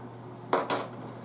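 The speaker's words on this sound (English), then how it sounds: "let me flip these potatoes over" Two quick metallic clanks sound as a utensil scrapes and flips roasted potatoes on a metal sheet pan, close and sharp, over a low steady hum.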